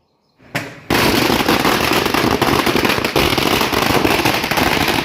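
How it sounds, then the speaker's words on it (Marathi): Firecrackers set off in a company compound to celebrate a workers' victory: after a brief opening burst, a dense, loud string of rapid crackling pops runs continuously for several seconds. "कंपनीच्या आवारात फटाके वाजवून कामगारांच्या एकजुटीचा विजय साजरा करण्यात आला"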